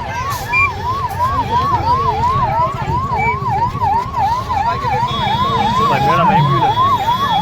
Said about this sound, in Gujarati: મેળામાં એમ્બ્યુલન્સ